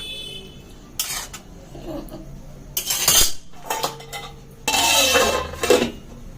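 A metal lid clatters onto a pot of ghugni simmering with goat fat, several sharp clanks and scrapes of metal against metal in quick bursts, close by, with no one speaking.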